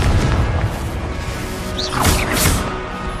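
A Confringo blast spell explodes in Hogwarts Legacy as a loud, booming burst with crackling, rushing debris that keeps roaring throughout, swelling again near the end.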